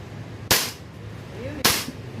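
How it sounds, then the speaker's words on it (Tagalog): Two sharp, loud pistol shots from a 2011 STI handgun at a firing range, about a second apart, each with a quick echoing decay outdoors. "Firing."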